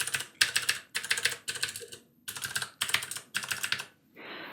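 Fast clicky typing on a Ducky Mini 60% mechanical keyboard with Cherry MX Blue switches, close up, in several sharp bursts of keystrokes separated by short pauses.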